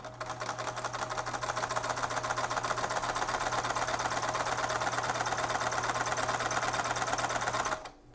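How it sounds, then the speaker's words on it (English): A sewing machine stitches fabric for a homemade respirator mask with a wire nose piece. Its rapid, even mechanical whir runs close and loud for nearly eight seconds, then stops abruptly. "then we're gonna sew nice and straight"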